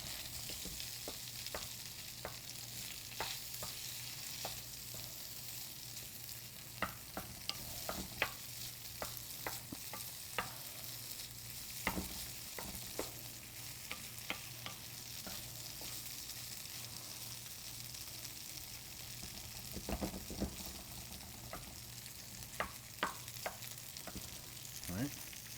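Tofu fries and toasts in a pan with a constant soft sizzle, broken by frequent light scrapes and clicks of stirring, close and steady with no talking.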